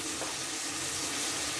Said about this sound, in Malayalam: ഇതൊന്ന് വഴന്ന് വരുമ്പോൾ ചക്ക ഇടുക.